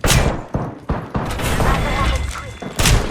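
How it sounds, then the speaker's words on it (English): Apex Legends gunfire: sharp, loud shots and booming impacts in an irregular series, with a denser rattle in the middle, close and punchy with voices mixed in. "Getting shot at."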